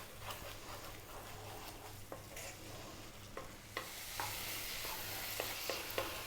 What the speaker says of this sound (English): We're really going to cook this tomato paste out. Nice low heat. Stirring often.